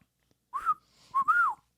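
A person whistles a short two-part tune, first a brief rising-falling note, then a longer held pitch that bends upward and falls, clear and close in an otherwise quiet room.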